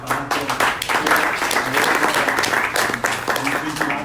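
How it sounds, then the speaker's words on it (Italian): Audience applause at a press conference, a full crowd clapping in a continuous patter with a few sharper individual claps at the start and end, close and fairly loud. "Quindi un applauso al Panathlon"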